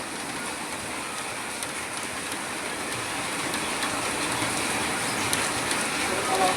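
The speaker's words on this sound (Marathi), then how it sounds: "खूप मुसळधार पाऊस चालू झाला" Sudden, very heavy cloudburst downpour near a market area, a dense steady hiss of rain drumming on surfaces that swells slightly louder toward the end, with no pauses.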